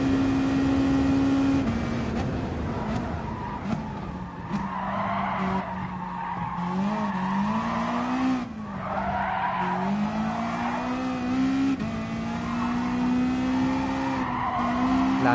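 Race cars in Gran Turismo Sport skid and squeal their tires over a loud whining engine drone that rises and falls in pitch, continuous and close throughout.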